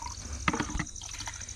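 Liquid poured into a small sprayer tank, a brief splashing fill with a few drips, close and moderately loud, used for an organic chilli crop virus and bacteria treatment.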